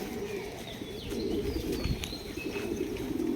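Pigeons coo in a steady low murmur throughout, with a few faint higher chirps and rustles above it, fairly close and without talk.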